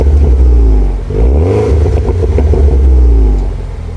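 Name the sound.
2011 MINI R56 John Cooper Works upgraded exhaust revving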